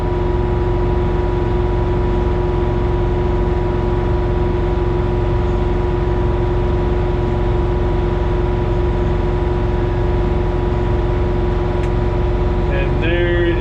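An LS tractor's diesel engine held at steady high revs during a regeneration cycle, a loud continuous drone with strong harmonic tones, briefly shifting near the end.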